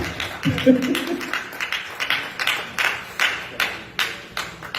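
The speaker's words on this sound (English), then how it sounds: "can we give a round of applause" Audience clapping for keynote speaker Peter Obi at a town hall meeting in Toronto, a short burst of applause from a crowd, with a brief voice near the start, then scattered claps thinning out.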